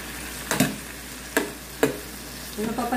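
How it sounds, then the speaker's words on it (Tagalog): Shrimp sizzle on an electric Korean grill hot pot, a steady close frying hiss broken by a few sharp crackling spits and stirring scrapes, with no talk. "Lalagay ko na po yung hipon. Antayin po natin mag-brown yung hipon."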